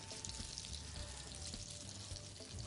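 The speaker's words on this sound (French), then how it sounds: "Donc là, on peut les mettre dans la poêle." Sole fillets go into butter in a frying pan, giving a soft, steady sizzling hiss that stays faint and even for a couple of seconds, with no talk.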